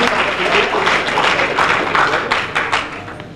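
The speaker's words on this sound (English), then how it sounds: "Big round of applause for them too." Audience applause at a powerlifting national championship meet, a loud, close burst of many hands clapping with some sharp individual claps standing out, holding steady and tapering slightly at the end.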